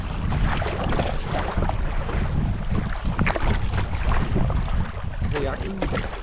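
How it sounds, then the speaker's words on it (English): Solo canoe paddled against the wind on water in the Scottish wilderness, with repeated paddle splashes and strokes over constant gusty wind buffeting the microphone, close and fairly loud. "I'm paddling against the wind now"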